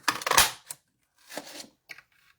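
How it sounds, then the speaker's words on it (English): Paper circles being cut with a 2 3/8 inch circle punch, a few short crisp clicks and crunches: a louder burst at first, then two softer punches, close and alone. "I have the 2 3/8 inch circle punch. This is also an online exclusive, and we're going to cut out 2 of these."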